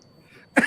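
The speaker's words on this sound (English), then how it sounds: "Calcutta pollution is at best level right now, so the coughing is constant" A single sharp cough bursts out near the end after a quiet stretch, from someone in a city where air pollution is high.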